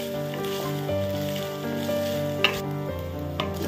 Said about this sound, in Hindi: सोया चंक्स मेरा हल्का सा फ्राई हो चुका है